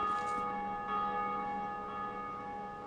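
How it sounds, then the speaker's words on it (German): Church-style bells ring out in the Dark Souls II game world, long sustained tones hanging steadily with a brief brighter strike near the start, loud and alone without talk. "Ich habe zwei Glocken geläutet."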